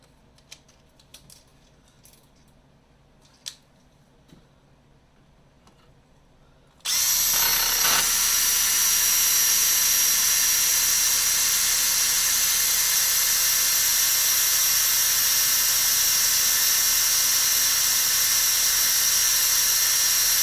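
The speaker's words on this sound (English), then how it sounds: "It's a little tough to drill, not gonna lie." Quiet small clicks, then a power drill abruptly starts and runs loud and steady, a high whine grinding into a cast iron distributor gear without letup.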